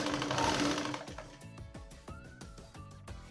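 A sewing machine stitches fabric for a bag strap, a steady rapid mechanical chatter in short runs with brief pauses and a few faint tonal whirs, close and moderately loud, with no speech.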